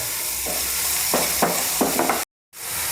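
Crushed garlic and ginger with salt sizzling in a hot pan for a lunchtime curry, a steady close frying hiss broken by several louder bursts of stirring and a brief silent gap near the end.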